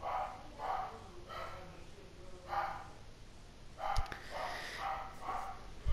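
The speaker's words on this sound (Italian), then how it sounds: "state sentendo anche cagnolino a casa perché che si fa sentire" A small dog barks in a home in repeated short yapping bursts, fairly near and moderately loud, with a brief sharp knock partway through and a steady high whine in the background.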